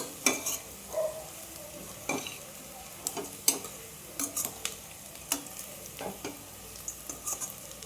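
Dried rose buds are stirred into a jackfruit biryani in a pan, a series of soft scraping and clinking spoon strokes at an irregular pace over a faint sizzle, fairly quiet and close.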